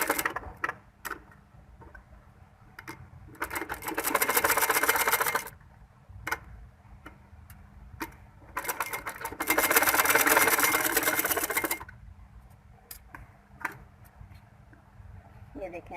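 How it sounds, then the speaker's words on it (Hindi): Sewing machine stitching a doubled layer of cloth to make a cover, two loud runs of rapid stitching separated by quieter handling clicks and pauses. "यहाँ पर सिलाई लगानी है।"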